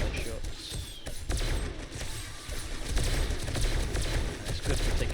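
Rapid gunfire in the video game 7 Days to Die Darkness Falls, a dense run of repeated shots under steady in-game background noise, continuous and fairly loud throughout.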